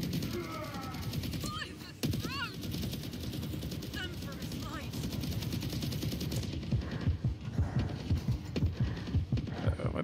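Rapid turret gunfire rattles through a battlefield in the VR shooter Warhammer 40,000: Battle Sister, dense repeated bursts that grow heavier in the second half, with a few other game effects and occasional voice.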